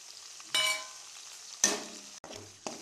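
Ginger garlic paste dropped into a pan of browned onion paste for an egg curry, with sharp sizzle bursts and scraping stirs in several short strokes, close but fairly quiet.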